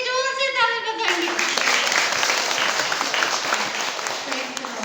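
A crowd claps loudly at a church prayer gathering, a dense burst of applause that starts after a brief sung or shouted voice and carries on steadily.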